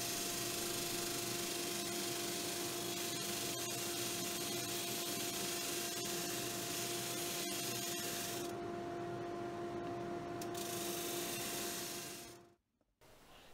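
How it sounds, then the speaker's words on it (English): Sanding a wooden toy tractor cabin cut from scrap on a bandsaw, with a continuous, even power-sander whir close by that runs without a break and cuts off abruptly near the end. "there's always a bit of sanding to happen because the bandsaw doesn't cut particularly smoothly"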